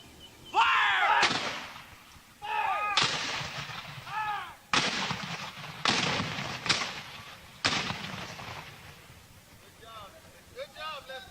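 Cannon fire from a muzzle-loading artillery piece crew drilling in section, several heavy booms spaced a second or two apart, loud and near, with shouted commands heard between the shots.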